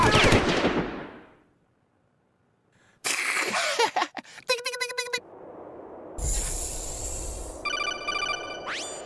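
Gunfire and electronic effects from a video game, with bursts of rapid shots and sharp beeping tones after a short silence, fairly loud and without talk over them.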